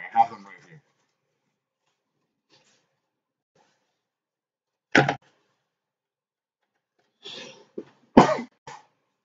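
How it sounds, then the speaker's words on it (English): A few sharp coughs break an otherwise quiet stretch, one near the middle and a cluster of two or three close together toward the end, near and fairly loud. "Sorry, a little cough."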